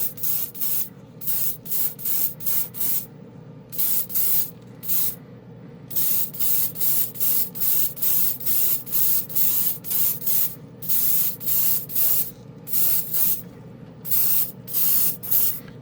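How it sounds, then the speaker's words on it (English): A spray gun fed by an air compressor at 20 psi lays down ATOM acrylic paint in a long run of short hissing bursts, close and even, separated by brief pauses. "Just trying to give it a quick coat here, and I like it right off the bat. It just sprays good."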